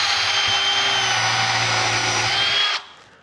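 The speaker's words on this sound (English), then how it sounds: "drill another quick hole." A power drill whines steadily at close range for a few seconds, drilling a hole in wood for a wood duck box, then stops abruptly.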